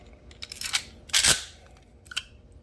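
Rounds are loaded into a Walther PPQ pistol magazine with an ETS C.A.M. loader, giving a few sharp plastic-and-metal clicks and clacks, the loudest near the middle and a smaller click near the end, close and isolated.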